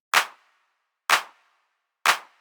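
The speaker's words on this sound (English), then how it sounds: "So you can see I'm using a lot of this 808 core kit" Three sharp, dry 808 drum kit hits in a deep house track, evenly spaced about a second apart, each with a quick bright attack and short decay, alone with no other sound.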